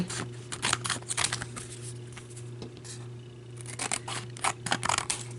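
Scissors snip through sticky material while making an angel Christmas ornament, giving several close, crisp cutting bursts in quick clusters over a steady low hum, with no talking.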